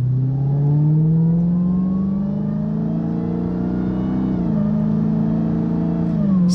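A 2021 Dodge Charger Redeye's 6.2 liter V8, breathing through a Legmaker intake, drones loud and deep right up close. Its pitch climbs slowly as it revs, briefly dips, then holds steady. No voices.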